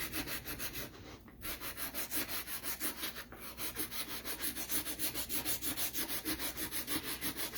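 A wooden heart cut-out being sanded by hand in quick, even back-and-forth strokes, a rhythmic, fairly soft scratchy rubbing close by with a brief pause partway through.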